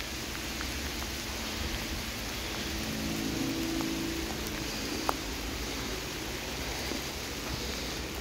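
Heavy rain pours steadily on and around a roughly 20-foot teepee structure in a teepee village during a rainstorm, a continuous broadband hiss with faint scattered drops and no talking.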